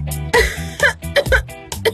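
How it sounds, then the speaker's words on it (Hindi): Several sharp, close coughs in quick succession, harsh bursts broken by short gaps, with a constant low hum underneath. "तुम्हें खांसी हो रही है"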